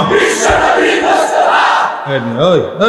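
A large religious gathering's crowd chants back in unison after a leader's Nara-e-Takbir call, loud massed voices filling the space, then the leader's amplified voice rises over the crowd near the end.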